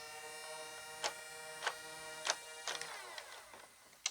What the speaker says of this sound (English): you charge up the flywheels. You can hear them there.